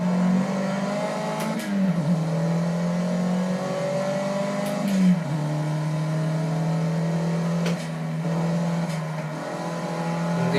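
Car pulling out of the pits onto the Bugatti circuit at Le Mans, engine revving hard and climbing in pitch through repeated gear changes, loud and close with a steady drone.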